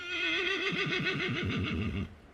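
A Friesian horse gives a single loud, close whinny lasting about two seconds, its pitch wavering rapidly and dropping into a shuddering finish before cutting off.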